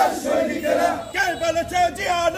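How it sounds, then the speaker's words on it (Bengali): Party activists of the BNP chant political slogans in unison during a street procession in Ramganj, a loud crowd of voices rising and falling in rhythmic bursts. "পরে নেতাকর্মীরা সরকারি হাসপাতালের সামনে থেকে পাকার মাথা পর্যন্ত দলীয় বিভিন্ন স্লোগান দিতে থাকেন"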